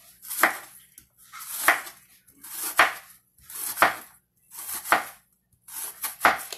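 An onion is chopped finely with a knife on a board, six evenly spaced, crisp blade strikes ringing out close and alone with short pauses between them.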